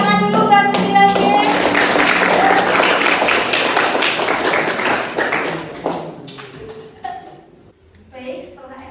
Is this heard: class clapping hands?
yes